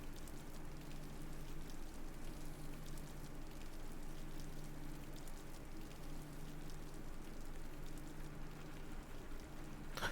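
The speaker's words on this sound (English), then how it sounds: "His mind wandered as he listened to the sound of the raindrops." Light rain patters steadily in the visual novel Mahoyo, a soft, even drizzle of raindrops with a faint low hum beneath, quiet and continuous with no voices.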